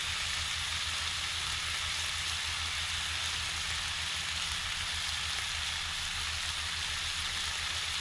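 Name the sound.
pancakes cooking over a campfire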